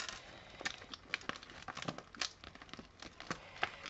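Thin 3D foam tape peeled from a pop-up paper card gives faint, irregular crinkling and small tearing crackles, close and quiet, in short scattered bursts.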